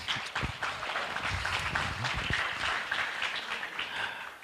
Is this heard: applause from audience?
yes